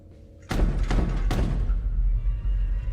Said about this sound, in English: Knocking. That's knocking.